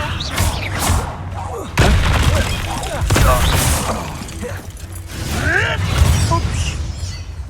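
Spell effects from the Hogwarts Legacy video game, with heavy thuds, booming blasts and crackling magical bursts arriving in several loud waves over a dense layer of game noise, while a voice speaks between the impacts.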